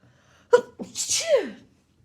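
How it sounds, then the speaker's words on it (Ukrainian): One loud, close sneeze with a quick sharp intake and a breathy, hissing release, alone in a quiet room. "Щас чихну."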